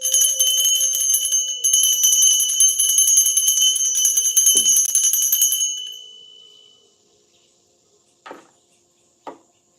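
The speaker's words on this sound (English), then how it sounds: "I'm about to ring the bell." A bright metal bell rings with a sustained shimmering tone for several seconds, then fades to silence, followed by a few sharp isolated taps or knocks.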